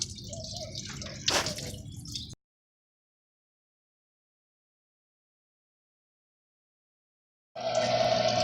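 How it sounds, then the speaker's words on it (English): Water drips and trickles out of a water-cooled alternator from a BMW X5, close and fairly quiet, broken by a long silent gap before the splashing resumes. "You can see all the water dropping out."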